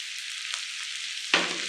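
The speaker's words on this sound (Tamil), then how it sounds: "உளுந்து எல்லாமே நல்லா வதங்கிடுச்சுங்க" Urad dal frying in a pan for ridge gourd thogayal, a steady close sizzle with a brief stir around the middle and a louder burst of crackling near the end.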